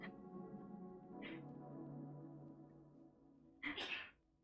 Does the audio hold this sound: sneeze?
yes